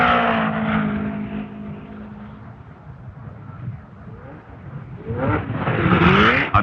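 A 1970 race car roars down the main straight, a loud sustained engine drone that dips slightly mid-pass and swells again with rising harmonics near the end.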